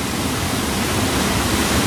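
Heavy alpine river swollen with snowmelt rushes steadily and loudly, a dense continuous roar of water close by along the mountain road to Zermatt, Switzerland.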